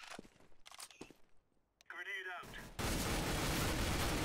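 Gunfire in the video game Counter-Strike: a sudden loud, sustained burst that starts after brief talk and runs to the end.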